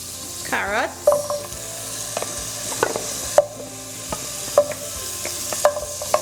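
Carrots sizzle and fry in a pot while being stirred with scraping utensil strokes, steady hiss underneath repeated stirring clacks, close up, for a Trinidadian chunky vegetable side dish with garlic.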